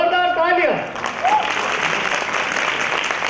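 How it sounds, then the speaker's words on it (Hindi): Applause from students and staff at a university induction programme in Rohtak, a sustained wash of clapping following a brief spoken voice at the start, continuing fairly loud and steady. "सुमित अवस्थी और संदीप चौधरी या जोरदार तालियां।"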